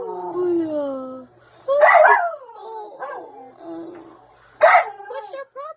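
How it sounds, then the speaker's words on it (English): A small dog in a Philippine home gives a few yappy, whiny barks and vocal grumbles close by, mixed with a person talking to it. "Why you keep on barking?"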